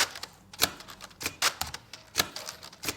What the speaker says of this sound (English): you can just use the keyboard like normal to update the value